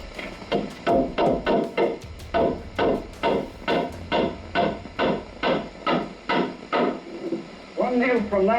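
Hammer blows drive nails into a wooden joist set on top of a post while a home fallout shelter is built, a steady run of about fourteen loud, close, evenly spaced wooden thuds, with faint talk at the very end.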